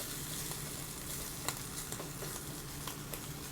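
Canadian bacon warming gently in a pan gives a soft, steady sizzle at low volume with a few faint pops and a light scrape, close up with no talking.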